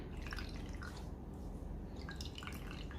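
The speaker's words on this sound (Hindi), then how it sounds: "आपने अपने ब्यूटी ब्लेंडर को यूज़ करने से पहले अपने ब्लेंडर को इस तरह से पानी में डिप कर देना होता है।" A beauty blender sponge dipped in water and dripping, giving a close, steady wet patter of drips and small splashes over a continuous liquid wash.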